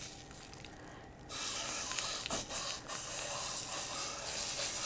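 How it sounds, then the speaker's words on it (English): Good hot sausage browns in a hot pan. A faint sizzle suddenly swells into a loud, steady spray-like hiss, with a couple of brief louder bursts. "The first thing I'm going to do, and I've already got my pan heating, is to brown the sausage."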